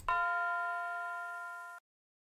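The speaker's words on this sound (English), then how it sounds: "Yeah, this is Bell 3F from Bananas on a Mount Kit." Bell one-shot sample, Bell 3F from the Bananas kit: a single clear bell tone struck once after a soft low thud, ringing evenly and fading slightly for under two seconds before cutting off abruptly.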